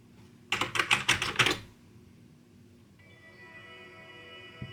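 Someone types an answer on a computer keyboard attached to an Amiga 500 Plus, giving a quick burst of about eight crisp, close keystrokes, then a quiet electronic hum.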